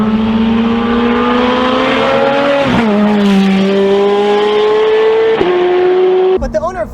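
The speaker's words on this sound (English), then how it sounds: "the stock exhaust sound is amazing," A Ferrari 430 Scuderia with stock exhaust revs hard while driving, its loud close engine note climbing steadily with brief dips at gear changes before cutting off abruptly.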